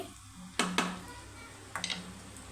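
Chicken pieces frying in a pan, a steady soft sizzle broken by two clusters of scraping, clattering stirs from a utensil against the pan, close and moderately loud with no talking.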